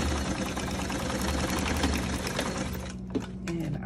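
A sewing machine stitches paper pockets and envelopes for a junk journal, a steady, fairly quiet mechanical whir that runs for about three seconds before stopping.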